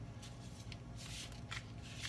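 Tarot cards are shuffled in quick, quiet bursts of papery riffling and rustling, close and soft, with no talking.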